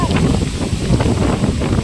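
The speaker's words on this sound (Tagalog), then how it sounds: "lakas ng hangin guys" Strong wind buffets the microphone with a loud, continuous low rumble and roar.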